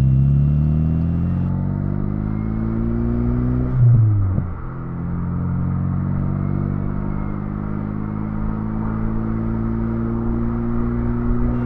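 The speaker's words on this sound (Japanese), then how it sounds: "近所をぐるりと走っていますが、おかしいところは特別感じません。" A car drives around a residential neighbourhood right after an air filter replacement. Its engine gives a steady, close, continuous drone with one brief dip and shift partway through, and no talk.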